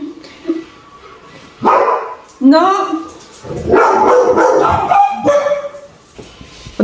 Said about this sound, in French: Oh, désolé, ils aboient pour rien.